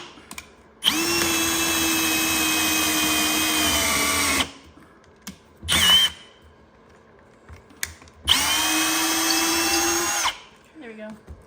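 Power drill boring holes with a 3/8 bit for a DIY Christmas decor project, heard in two long steady high-pitched whining runs of about four and two seconds, loud and close, separated by brief clicks and handling noises.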